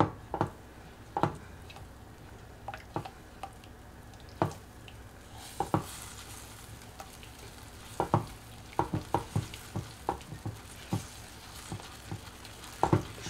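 Cashew paste stirred with a spatula in a hot pan while cooking a Bengali-style paneer dish, irregular knocks and scrapes against the pan over a soft sizzle, close, without speech.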